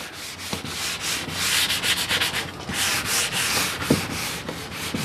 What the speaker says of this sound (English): Just a quick sanding.